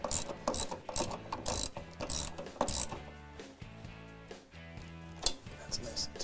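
A ratchet tightening a bolt threaded in from the back side at a rear seat belt mounting hole on a Mustang during exhaust work, with rapid rhythmic clicking bursts up close and quieter clicks later.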